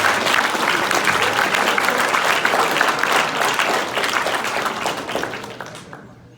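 An audience at a hypnotist show during a school after-prom night breaks into loud, dense applause, many hands clapping steadily before tapering off and stopping near the end.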